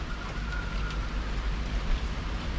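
Steady rain pours down with a dense hiss at a marina on a cold, very windy day, mixed with low rumbling wind noise throughout.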